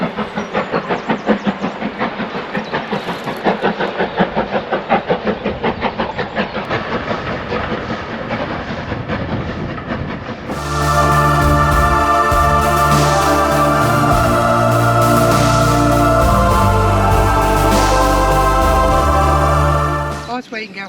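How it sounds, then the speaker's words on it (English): A steam train on the North York Moors railway passes with a fast, rhythmic clickety-clack of wheels on the rails. Halfway through, a loud, sustained steam whistle blasts over the rolling noise and holds for about ten seconds. "you never know when a steam train is going to go past as well"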